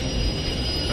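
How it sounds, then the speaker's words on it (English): A moving train running parallel in the video game Metro Exodus, a steady, close, heavy rumble with a thin high whine on top, lasting under a second. "moving train that's parallel to us"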